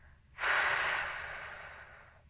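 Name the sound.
exhaling firmly into N95 mask during fit test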